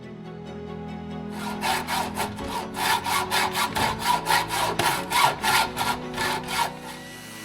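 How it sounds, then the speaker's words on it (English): A hand saw cuts through an aluminum bar with rhythmic, even strokes that start after a quiet, humming moment and continue steadily at close range, each pass a sharp metallic rasp. "This turned out to be a good opportunity for me to learn how to cut an aluminum bar."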